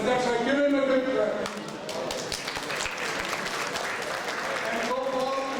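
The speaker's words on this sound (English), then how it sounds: "give him a big clap" Guests at a London charity dinner applaud Salman Sheikh with a sustained round of many hands clapping. A voice speaks over the opening and closing moments, and music sounds at the start.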